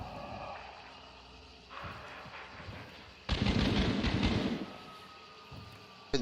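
Gunshots in a video game, a couple of faint distant pops followed by a louder sustained burst of firing lasting about a second, then quieter ambience and a sharp hit at the end.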